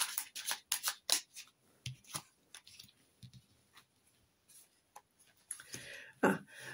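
Tarot cards shuffled for a general reading, giving a series of quick papery riffles and soft slaps in irregular bursts, close and fairly quiet, with no talking.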